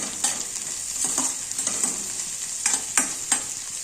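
Onions, chilies, mustard seeds, cumin and curry leaves fry in hot oil with a constant high sizzle, punctuated by a regular series of sharp spatula scrapes and clinks against the pan.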